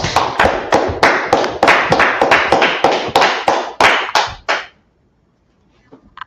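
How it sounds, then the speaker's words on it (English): An audience claps in a steady rhythm, about fifteen loud, sharp, close claps in quick succession, then stops abruptly into near silence. "Clap it up for the class."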